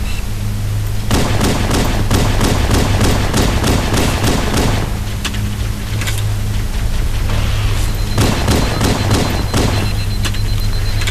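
Halo: Combat Evolved combat plays as a dense, loud barrage. Rapid gunfire crackles continuously while deep booming blasts from grenade explosions surge and fade in waves, with no pause.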